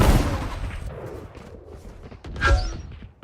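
Gunfire in the Valorant video game: a sharp, punchy shot at the start and another crisp crack midway, each followed by short decaying tails and faint game ambience.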